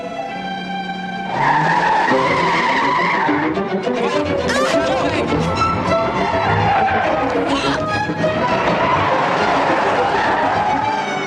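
A getaway car skids on tires and speeds off near an abandoned waterfront warehouse, a loud sustained screech and engine roar filling the scene with a dense, continuous wash of sound.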